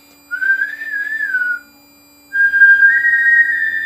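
A person whistles two sustained melodic phrases, the first gently wavering in pitch, a short pause between them; close and clear with no talking.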